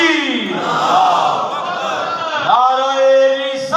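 A mosque or imambargah audience at an Eid Ghadeer celebration in Gulshan-e-Abbas, Naik Colony shouts a loud collective response to the Takbir slogan, a sustained roaring chant that fades before a single amplified voice resumes.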